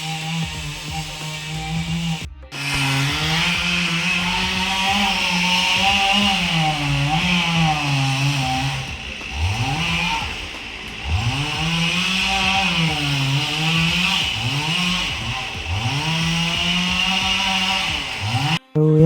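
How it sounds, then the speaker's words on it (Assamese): A chainsaw cutting down large trees, its engine droning loud and near, repeatedly rising and bogging in pitch as the chain bites and revs, with brief pauses between cuts. "ইমান ডাঙৰ গছসোপা এনেই কাটি গৈছে গাইজ"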